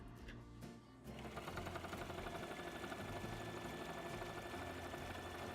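A sewing machine runs steadily, stitching three ribbons together into one long ribbon and hemming the edges for a ruffled dress; after a brief pause the motor settles into a loud, continuous whirring hum for several seconds.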